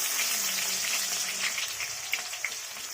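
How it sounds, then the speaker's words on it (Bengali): Chopped onion sizzling in hot oil, a steady close hiss of frying with small pops and crackles scattered through it, no talking. "এবার কুচনো পেঁয়াজ দিয়ে দেবো"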